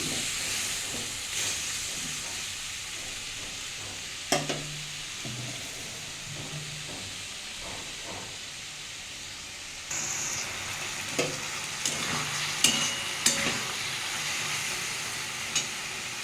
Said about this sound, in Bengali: পেঁপেগুলো একটু ভেজে নিচ্ছি